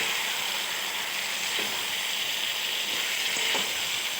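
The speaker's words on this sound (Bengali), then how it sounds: "আমি গরম জল বসিয়েছিলাম সেই গরম জলটাই দিলাম" Hot water hits chicken frying in a pan, producing a loud, steady sizzle and hiss that runs without a break, with faint stirring clinks and no voices.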